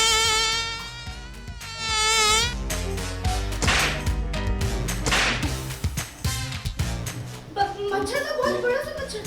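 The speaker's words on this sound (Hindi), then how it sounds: "मच्छर था, बहुत बड़ा सा मच्छर था।" A large mosquito whining in a Hindi TV drama scene, a high buzzing that rises and falls, mixed with sharp slaps, swishing effects and background music, with a voice speaking.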